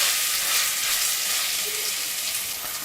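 Ginger and garlic paste fries in a pan with a loud, dense, steady sizzle and crackle, close up and unbroken, with no talking.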